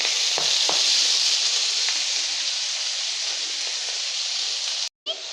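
Finely chopped spinach goes into a hot pan with a loud, steady sizzle that fades slightly over time, with a few stirring knocks, then briefly drops out near the end.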